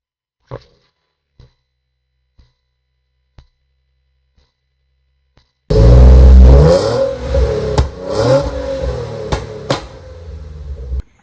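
A Nissan 370Z with a ported upper plenum manifold first gives a few faint clicks, then its engine cranks and fires loudly into a close rumbling idle with several sharp revs.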